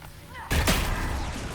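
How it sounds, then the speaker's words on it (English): A Qunari explosive device set off by fire in Dragon Age Inquisition's Trespasser, deep underground, bursts with a sudden loud boom that leaves a sustained rumbling roar after it. "Qunari make these things explode."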